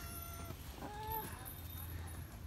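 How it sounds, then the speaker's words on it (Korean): A cat meows loudly and close by, a single drawn-out call in an outdoor forest setting near Sapa, Vietnam, over steady background noise. "고양이가 진짜 큰."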